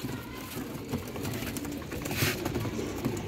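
Pigeons, including a large one, give low soft coos at close range, repeating in an uneven rhythm amid faint background voices and noise.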